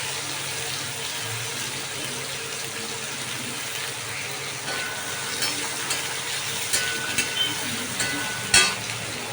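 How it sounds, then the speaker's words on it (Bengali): Chopped onion and tomato dropped into hot oil for paneer butter masala, a steady hissing sizzle with a few clinks of a spoon against the pan, close and continuous without speech. "একটা কুচনো পেঁয়াজ আর একটু টমেটো আমি তেলের মধ্যে ছেড়ে দিলাম।"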